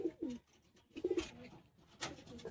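Pigeons coo in short low bursts at a loft of high flying birds in Bagnan, Howrah, with several soft, close calls spaced across a quiet background.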